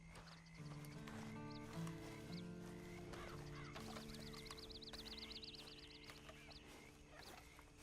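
Horse snorts and whinnies with hoof clops amid game music and bird caws in Red Dead Redemption 2 Online, moderately loud throughout.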